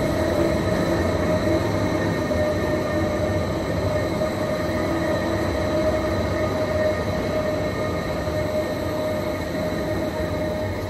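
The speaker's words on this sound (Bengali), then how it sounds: "এই দেখুন, টানেলের মধ্যে দিয়ে ট্রেন যাচ্ছে তো আমাদের" A train rolls through a tunnel on a Swiss mountain railway climbing toward Jungfraujoch, a steady close rumble of wheels and carriage noise with a constant hum lasting the whole stretch.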